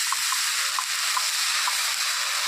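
Ginger, garlic, onion and green chili paste frying in a pan over reddened onions, a dense, even hiss of sizzling with faint pops, no voices.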